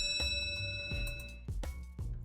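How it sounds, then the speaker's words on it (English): A small entrance bell rings at the door of a resort house in Atami, Shizuoka, Japan, giving several short, clear dings spread across a couple of seconds over steady background noise. "Cool little bell."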